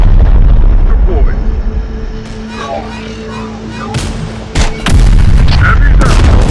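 Gunfire in the video game Terminator Dark Fate Defiance: loud, booming shots and sharp cracks over a rumbling battle bed, with a few voices calling out.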